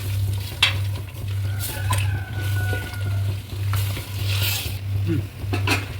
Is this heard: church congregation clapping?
no